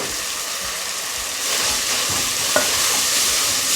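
Vegetables going a little at a time into hot oil, a loud continuous frying hiss that swells slightly as more is added, with a single sharp clink partway through.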